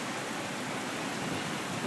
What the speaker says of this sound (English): So we're getting a Kansas rainstorm.